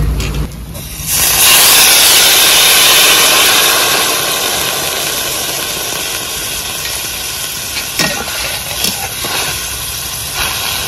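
Water hits a hot pan of frying fish and pointed gourd with a sudden loud hiss that swells into a strong, steady sizzle and slowly eases, broken by a few soft clinks near the end.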